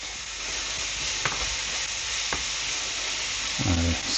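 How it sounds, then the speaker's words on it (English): A meatball and mushroom sauce hisses steadily in a pan while being stirred, with a couple of sharp utensil taps and a brief scrape near the end. "I stir this a bit."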